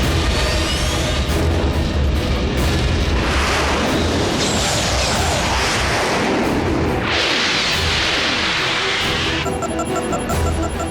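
Missile strikes and explosions boom in a Transformers Prime cartoon battle, loud and dense with repeated blasts, whooshes and rumbling debris layered over one another.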